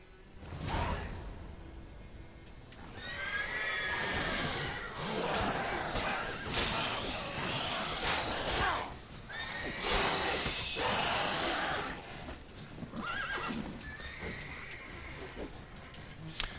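Horse snorts and clip-clopping hooves from The Witcher III mix with swishing whooshes and steady game ambience, moderately loud throughout with no clear speech.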